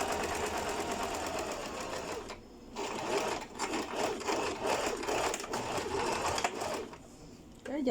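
A sewing machine stitches a seam on a fan-pleated skirt mock-up, running in close, steady bursts with a couple of short pauses.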